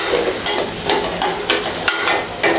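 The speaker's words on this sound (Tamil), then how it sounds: "நம்ம வெங்காயத்தை நல்லா வதக்கிக்கலாம்" Onions sautéing in a pan for sweet potato cutlets, a loud close sizzle broken by rhythmic scraping strokes of a spatula roughly every half second.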